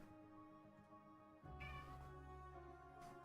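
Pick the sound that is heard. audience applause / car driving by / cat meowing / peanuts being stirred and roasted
cat meowing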